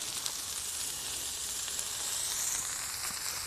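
A steak fillet and asparagus sizzle on a grill in an even, continuous hiss with faint crackles throughout, close and steady, with no talking.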